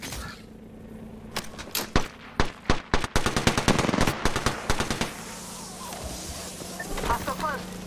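Apex Legends gunfire: a rapid series of sharp shots building into a fast automatic burst, then fading into quieter rattling and ambient game noise, with a voice occasionally speaking.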